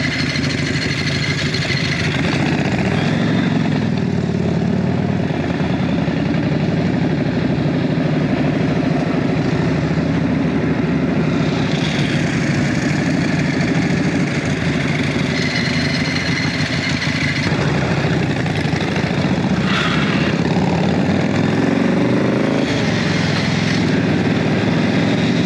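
A chopper motorcycle engine running during a Memorial Day ride: a loud, steady mid-pitched rumble that holds throughout with slight rises and falls in revs and some wind and road noise.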